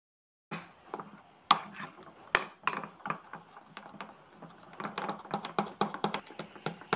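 Besan uttapam batter mixed with curd in a bowl gives quick, irregular clinks and taps of a spoon against the bowl, growing busier and more rhythmic toward the end.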